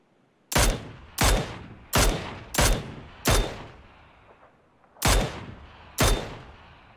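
Seven loud, evenly spaced rifle shots in PUBG, each a sharp crack with a brief decaying echo and a short pause between, one longer gap before the last two.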